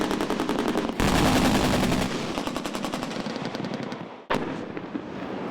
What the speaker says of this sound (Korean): 기호와 발칸, 고속 유탄 발사기가 불을 뿜고 적 지피는 완전 격파됩니다.